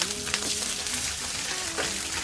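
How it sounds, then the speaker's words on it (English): Lobster sautés for paella in a hot pan, giving a steady, close sizzle and crackle throughout with no voices. "We begin by sauteing the lobster a little bit."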